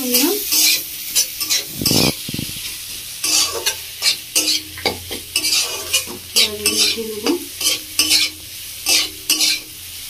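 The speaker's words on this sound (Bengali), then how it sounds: "সেদ্ধ করে রাখা আলুগুলো একটু দিয়ে দিচ্ছি এর মধ্যে" Boiled potatoes are added to a hot pan and fried, with a busy run of close stirring scrapes and spatula clatter over a constant sizzle and no speech.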